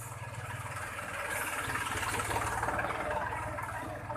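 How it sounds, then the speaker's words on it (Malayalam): Tractor engine running with a low rhythmic chugging throb that swells slightly in loudness as it draws nearer, mid-distance and unbroken, with no voices. "ട്രാക്ടർ വരുന്നുണ്ട്."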